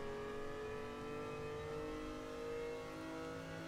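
A Ford GT40 engine revs in the racing game Gran Turismo Sport, a steady, fairly quiet mid-pitched drone with slowly shifting harmonics and no talking.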